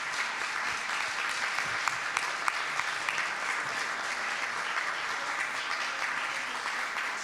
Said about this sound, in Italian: e un applauso in memoria